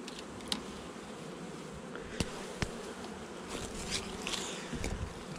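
Honeybees buzz around an open beehive in a faint, continuous hum, with a few sharp clicks and soft knocks standing out at the hive.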